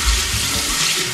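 Cold tap water gushes loudly and continuously into a sink while someone rinses their face, a close, full hiss with no voices.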